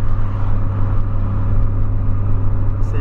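Polo car engine running steadily at close range, a constant low idle drone with a faint rise near the end, no talk over it.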